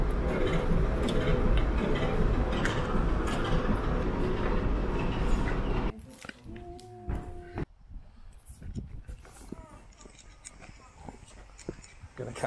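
A loud, rushing train roars past for several seconds on the Midland Railway at Butterley, Derbyshire, with rattling rail noise, then cuts off to quieter surroundings with scattered clanks and a person speaking.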